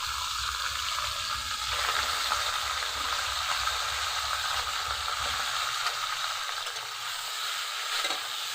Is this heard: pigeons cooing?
no